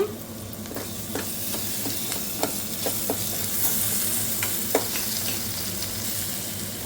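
Ginger garlic paste frying in a pan, a continuous hiss and sizzle with scattered light clicks of a spoon stirring, heard close and without talk.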